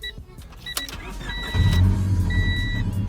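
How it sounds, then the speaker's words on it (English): Car engine with an exhaust leak at a salvage yard, a rough, throaty idle rising after a short start-up, with steady low rumbling and faint electronic chimes. "It also has an exhaust leak."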